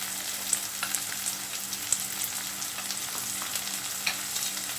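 Capsicum and onion with salt fry in a pan with a steady, close hiss, and a few light taps and clicks of a spatula come through.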